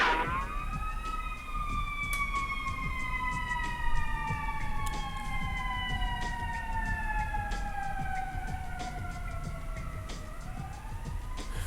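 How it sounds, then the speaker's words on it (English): Emergency vehicle sirens wail continuously with slowly sweeping tones against steady background traffic noise, distant to mid-range and without talk. "Hold on, there's sirens."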